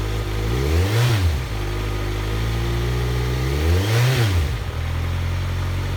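A nearby 2010 Kawasaki Z1000 1000cc motorcycle engine revs up twice, pitch climbing and falling each time, settling back to a steady idle in between.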